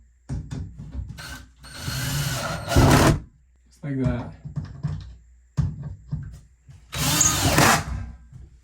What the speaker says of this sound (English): I'm just gonna drill it in.